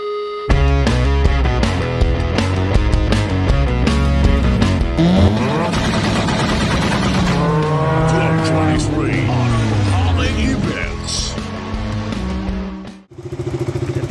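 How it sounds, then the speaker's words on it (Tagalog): A 2018 KTM RC200 and a 2015 Yamaha YZF R15 idle and rev while warming up, their engines droning loudly and continuously at close range with rising and falling revs, then cutting off near the end, while someone talks over them. "Pinaiinit natin tong ating mga mot-mot."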